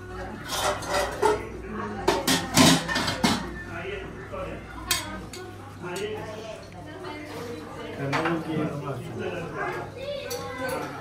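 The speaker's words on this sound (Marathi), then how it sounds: "तुम्ही हे भांडी घासू नका." Dishes clink and clatter as they are washed nearby, with metal utensils knocking irregularly while people talk over the clatter.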